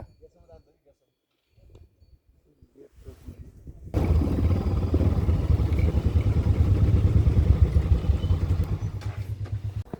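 Quiet scattered sounds, then a motorcycle engine suddenly roars up close and keeps running loudly to the end, in Mustang, Nepal.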